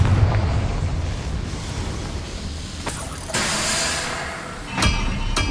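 The Confringo fire spell in Hogwarts Legacy lets out a loud, sustained fiery roar with a rumbling low end, broken by a few sharp, blasting bursts near the end.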